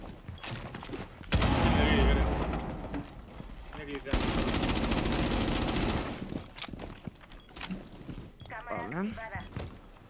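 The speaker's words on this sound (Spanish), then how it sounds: "¿Qué está disparándose?" Gunfire in Rainbow Six Siege, rapid bursts of automatic fire in loud dense stretches separated by quieter gaps, with voices talking in between.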